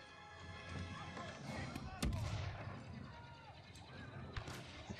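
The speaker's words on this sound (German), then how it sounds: "Ich sehe mal überall Schüsse" Gunfire in the video game Star Wars Battlefront II, with scattered shots and booming blasts across a busy battle, one sharp loud crack standing out, while someone talks over the game.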